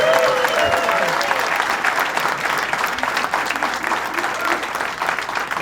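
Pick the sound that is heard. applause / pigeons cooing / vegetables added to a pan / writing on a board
applause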